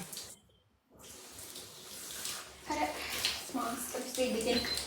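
Shower water hisses steadily while hair is washed with shampoo, with voices talking over the running spray and a brief quiet gap near the start.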